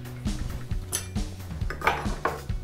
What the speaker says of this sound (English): I'm going to just trim it out with a chisel very quickly